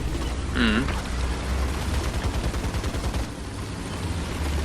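Rapid, dense gunfire in a video game as trees are shot down, a steady rattling stream of shots with a brief boom near the start, loud and continuous.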